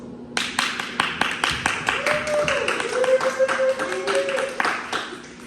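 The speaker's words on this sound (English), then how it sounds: "Ladies and gentlemen, round of applause." A small studio audience claps rhythmically for a guest, the CEO and co-founder of a cannabis brand, with distinct, regular hand claps close by while a voice and a tonal sound carry on underneath.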